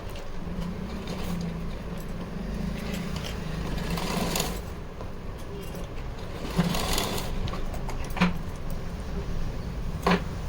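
Sewing machine stitching lining fabric onto a festive outfit, running in a steady continuous whir with a few brief knocks and clicks, fairly close and alone without talk.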